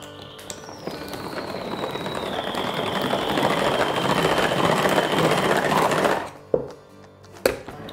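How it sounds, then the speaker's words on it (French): Hand blender whirring steadily as it mixes mini quiche batter in a kitchen, a sustained motor drone with a slowly falling whine lasting about six seconds before cutting off, followed by a couple of brief knocks. "Je vais déjà donner un petit coup de baguette magique."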